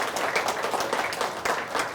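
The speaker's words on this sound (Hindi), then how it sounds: "इनके लिए बहुत सारी तालियां तो बनती हैं।" Audience applause for a BJP MP guest in a newsroom interview setting, a lively burst of many hands clapping with uneven swells, close and fairly loud.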